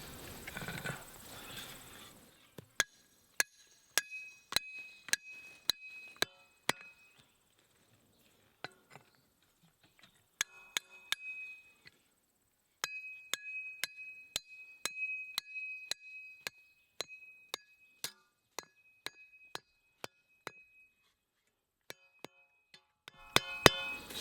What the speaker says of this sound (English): Shoot my stakes in.